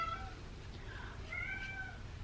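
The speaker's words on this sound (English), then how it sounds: "I'm sorry about my cat meowing right now." A cat meows a few times in quick succession, drawn-out plaintive cries over a quiet background hum.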